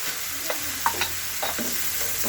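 A spoon stirs kangkong bopis, chopped kangkong stems cooking in a frying pan, giving a few scattered scraping clinks over a low, steady sizzle, close and fairly quiet.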